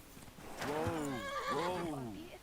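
A horse in the medieval game Kingdom Come: Deliverance II gives a loud, clear whinny of rising and falling tones lasting about two seconds, with faint hoof clip-clop beneath.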